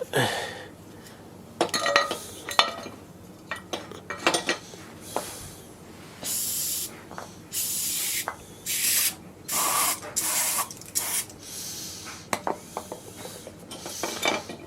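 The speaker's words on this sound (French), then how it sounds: "Après on va nettoyer ça à l'eau chaude" Hot-water spray blasting over Mercedes intake and engine-mount parts in bursts, loud hissing jets alternating with metallic clinks and handling of the pieces close by.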